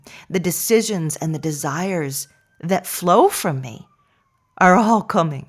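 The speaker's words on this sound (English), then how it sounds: "Pardon the siren." A siren passes outside, faint and steady beneath a person speaking close to the microphone, its thin wavering tone surfacing in the pauses between phrases.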